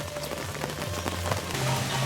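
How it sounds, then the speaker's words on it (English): Heavy rain falls hard on surfaces nearby, a dense, loud, continuous patter with scattered sharper drops and no voices. "I don't think I can recall so much rain."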